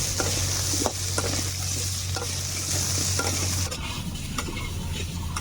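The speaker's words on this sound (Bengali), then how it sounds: "দেখুন, আমার সোয়াবিন আলু ভালোভাবে ভাজা হয়ে গিয়েছে।" Boiled soybeans and potatoes frying together in a pan, a continuous loud sizzle with scraping stirs of a spatula at irregular intervals and a low hum underneath.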